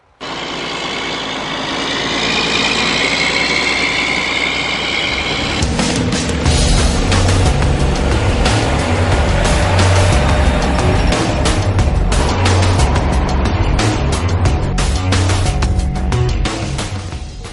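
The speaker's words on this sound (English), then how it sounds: "That's why the trucks are moving slowly in today's weather." Big trucks climbing a mountain road in poor weather, a steady heavy engine drone that deepens midway with rattling and clattering over a low rumble, sustained and fairly close.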